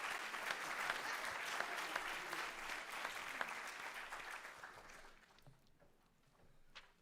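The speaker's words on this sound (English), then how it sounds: "let's give a big round of applause to Presidente Morales" An audience at a summit gathering at Cal State San Bernardino gives sustained applause for Presidente Morales, the clapping fairly distant and then fading to scattered claps near the end.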